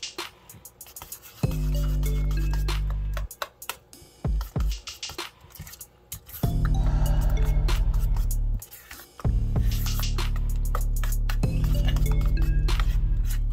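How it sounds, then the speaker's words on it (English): Corned beef and sauerkraut mixed in a dish with scraping and clinking strokes over a loud, throbbing hum that cuts in and out in long stretches; no talking. "And just thoroughly mix that through."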